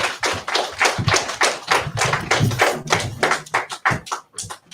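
People clap together at a religious gathering for a high holy day, a close, loud run of sharp hand claps in an uneven rhythm, several hands striking at once and tapering near the end.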